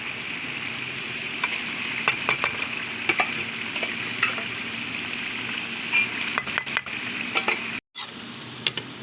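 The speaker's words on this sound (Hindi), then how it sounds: "दाल को हम मसाले के अंदर मिक्स करेंगे।" Boiled daal mash being stirred into a spice masala in a pan gives a steady low sizzle with scattered scraping clicks of the spoon, fairly faint and close.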